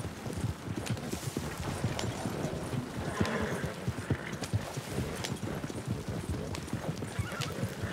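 A pony's hooves clip-clop in steady rhythm in the Red Dead Redemption 2 video game, mixed with a whinnying neigh. The sound is fairly close and moderately quiet, with no talking.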